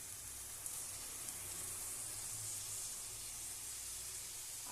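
Yogurt going into a hot pan of spices over lowered heat for a cauliflower roast, giving a steady broadband sizzle and hiss that holds evenly throughout, fairly quiet, with no voices.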